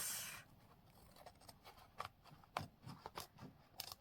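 Scissors snip and trim a stitched craft project close by. Several short, quiet, irregular cuts and rustles sound in a hushed room.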